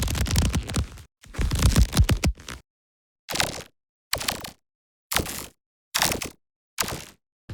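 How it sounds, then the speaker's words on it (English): Sci-fi energy layers made by granular processing of leather football rubbing recordings: crackling, scraping bursts, a long dense stretch followed by a run of short evenly spaced hits with silence between. "These more dangerous sounding energy layers are using the same granular technique,"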